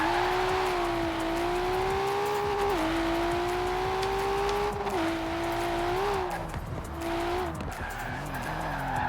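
Racing car in the video game Forza Horizon 4, engine holding a high drone that dips and climbs between gear changes, while tires squeal in long skids through corners, loud and continuous.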